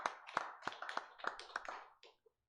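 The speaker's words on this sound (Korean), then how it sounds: "하나님께 영광의 박수 돌려드리겠습니다" A church congregation at Sunday worship gives a round of clapping to God, a sparse, quiet patter of a few distinct claps in an uneven rhythm that trails off and stops.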